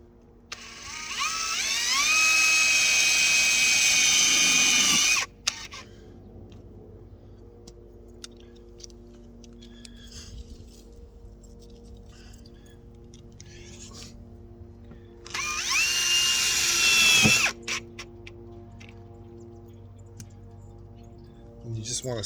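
A power drill drives self-tapping screws while a fridge slide-out is being built. The motor whines in two sustained bursts, about five seconds and then two seconds long, with quiet handling noise in between.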